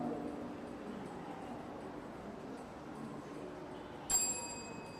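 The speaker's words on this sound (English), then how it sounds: "the bell has gone" A quiz-contest bell at a school Bible competition in Ghana sounds once near the end, a sharp bright ring that rises suddenly over a quiet hall murmur and fades.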